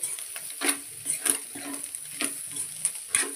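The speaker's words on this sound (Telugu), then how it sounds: "ఒక్క సెకండ్ ఇలా ఫ్రై చేసుకొని స్టవ్ ఆఫ్ చేసేసుకుంటే" Blood fry cooking in a pan, a soft steady sizzle with repeated scraping stirs of a spatula at a moderate distance.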